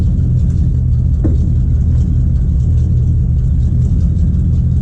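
A 1955 Ford Fairlane engine runs steadily with a loud, close, continuous low rumble and no one talking over it.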